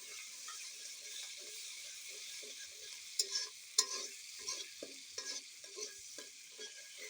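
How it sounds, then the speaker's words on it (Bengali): Noodles and sauce being stirred in a hot frying pan, with a steady sizzle beneath a series of scraping, tapping strokes of the utensil that grow louder in the middle. "সসটা দিয়ে ভালো মতো নেড়ে চেড়ে নিব।"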